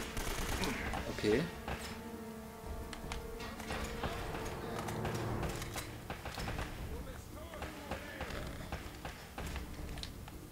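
Gunfire in the video game Uncharted: Drake's Fortune, with rapid scattered shots and clatter mixed under game sound and people talking throughout.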